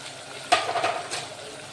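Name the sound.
stirring spices frying in a pan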